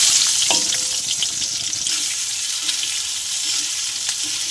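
Black cumin, green chilli and onion frying in hot oil in a pan, a steady loud sizzle with light stirring clicks, no voices over it.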